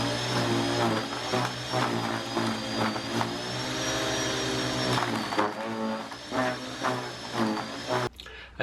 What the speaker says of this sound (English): Once this was complete, the shredder worked as good as new.